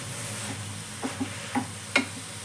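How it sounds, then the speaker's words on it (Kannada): Grated carrot frying in ghee in a heavy-bottomed pan, stirred in several short scraping strokes over a soft steady sizzle, close and fairly quiet. "ಚೆನ್ನಾಗಿ, ಆ ಥರ ಫ್ರೈ ಮಾಡ್ಕೊಳ್ಬೇಕು."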